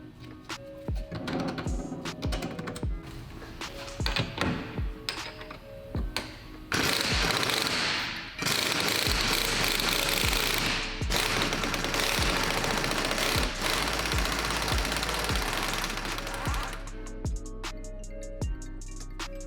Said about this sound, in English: remove the 14mm end link bolt as well as the 17mm bolt holding down the spring and shock assembly to the lower control arm